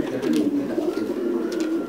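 Thai Titan meat pigeons coo at a large pigeon farm, a dense chorus of low rolling calls sustained throughout, close and fairly loud with occasional wing flutters or scuffs.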